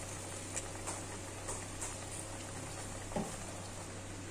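Milkfish (bangus) simmers in vinegar and Sprite for paksiw in a pot, a faint, steady bubbling hiss with soft scattered pops and ticks and no talking.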